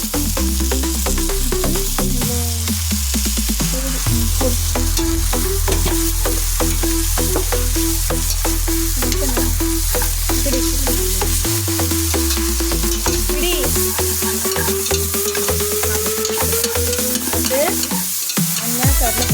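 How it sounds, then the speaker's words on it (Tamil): Chana dal, urad dal, onion, green chillies and curry leaves sizzle in hot oil in a pan while being stirred, with a continuous close frying hiss and repeated scraping strokes throughout. "எண்ணெய், கடலைப்பருப்பு, உளுத்தம்பருப்பு, வெங்காயம், பச்சை மிளகாய், கருவேப்பிலை வச்சு வதக்கி விடு"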